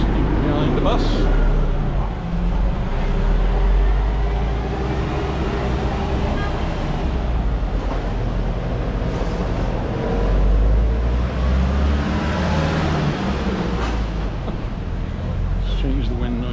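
Road traffic passes continuously on a street in Palmanova, with cars and a bus, a steady broadband rumble at moderate level, no speech.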